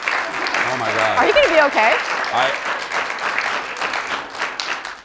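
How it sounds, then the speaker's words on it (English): Studio audience at a live televised show applauding and cheering steadily throughout, loud and close, with a voice speaking over the crowd noise partway through. "Don't cheer for that."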